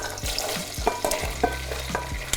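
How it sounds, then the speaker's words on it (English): Beans are stirred in sizzling olive oil in a pan, with close scraping and clinking strokes of the utensil over a steady frying crackle. "So I'm just stirring the beans to coat them in the oil"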